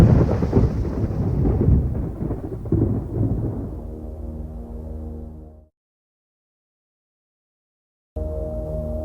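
Heavy storm with rolling thunder and a dense roar of falling hail or rain, loud and rumbling before fading and cutting to silence, then a low storm rumble returning abruptly.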